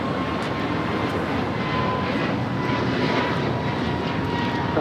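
A Lufthansa jet airliner takes off from runway 25 left at LAX, a steady loud broadband engine roar that holds constant throughout, with no voices.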